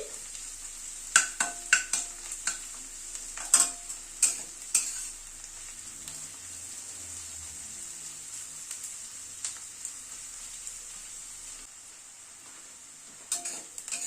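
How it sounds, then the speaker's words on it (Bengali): Crushed garlic cloves fry with onions in a pan, a soft continuous sizzle punctuated by a few sharp spatula knocks and scrapes early on, then quieter frying with occasional taps. "রসুনটাও একটু পেঁয়াজের সাথে একটু ভেজে নিচ্ছি।"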